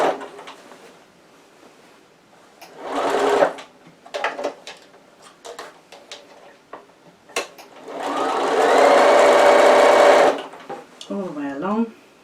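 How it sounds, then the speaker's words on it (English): A sewing machine runs a top stitch along a folded pleat on a cushion cover, whirring in a couple of short bursts and then one steady two-second run, with handling noises and a brief voice between the runs. "just do a top stitch"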